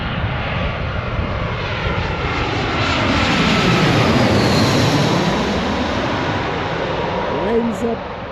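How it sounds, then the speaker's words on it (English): A fixed-wing airplane descends toward a runway near Washington, D.C., passing the White House and monument, its engine roar loud and steady throughout, swelling slightly in the middle, with occasional voices beneath. "the airplane as it's tilt away from the White House, tilt away from the monument, and then it"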